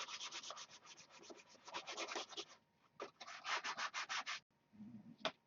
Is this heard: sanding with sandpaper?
yes